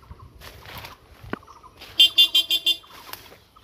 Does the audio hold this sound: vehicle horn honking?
yes